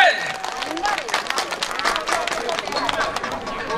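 Audience applause at a market family festival stage show in Yangpyeong, a crowd clapping steadily alongside a voice speaking over a loudspeaker and background chatter.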